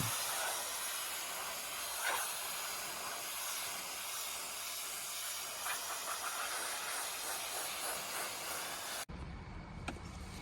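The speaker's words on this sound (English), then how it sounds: "So the pressure washer in this case was the best option." A pressure washer sprays the interior of a Porsche 928 under restoration, making a loud, continuous hiss that holds steady and then cuts off abruptly near the end.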